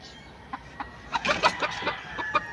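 Chickens clucking in short, scattered bursts while being fed coconut, close by with soft background noise and no speech.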